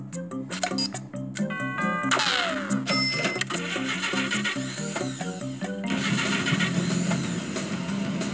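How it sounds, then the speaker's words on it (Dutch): Spaceship engines start up in the children's math adventure video game Howie's Boomhut, a mechanical whir and rising rumble mixed under steady game music with clicking switch-like sounds. "Motoren klaar voor vertrek."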